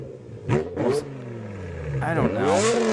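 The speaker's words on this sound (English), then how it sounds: "So this is a valved exhaust. So this is the closed valve." A V-engine car with a valved exhaust, valve closed, revs twice in quick bursts and then rises into a longer rev, the engine note sweeping up under steady loud mid-range rumble.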